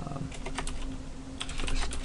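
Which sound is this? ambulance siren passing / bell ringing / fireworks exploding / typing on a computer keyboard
typing on a computer keyboard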